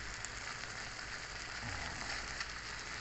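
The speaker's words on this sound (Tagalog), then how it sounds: "nilagay ko na po yung itlog. Ang gagawin natin dito, haluin lang natin ng haluin siya." Egg with mixed vegetables and tuna flakes in oil sizzles steadily in a hot pan as it is stirred and scrambled, a continuous close frying hiss with no talk.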